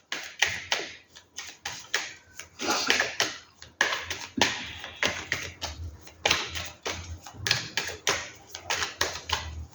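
Tarot cards are shuffled with quick, irregular bursts of crisp papery riffling and tapping, close and fairly loud, broken by short pauses and with no talking.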